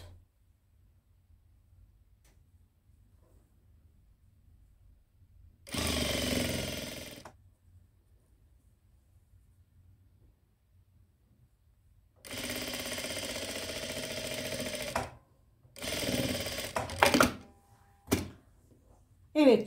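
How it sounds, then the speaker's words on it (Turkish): A sewing machine stitching bias binding along the neckline of a dress runs in separate close bursts of rapid mechanical whirring, with a longer run near the middle and short stop-start spurts toward the end. "biyemizi bu şekilde tekrar düz yüzünden dikiyoruz"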